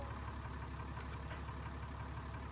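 A truck engine running in Farming Simulator 19, a steady low throbbing hum with even pulsing, held at a constant moderate level throughout.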